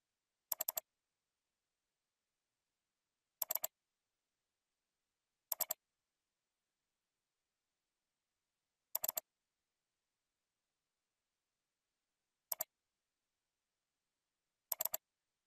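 Short bursts of computer keyboard typing entering data into an XML grid editor, arriving in six brief clusters of quick clicks separated by long silent gaps, crisp and close.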